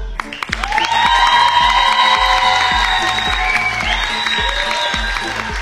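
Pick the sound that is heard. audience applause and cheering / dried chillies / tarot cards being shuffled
audience applause and cheering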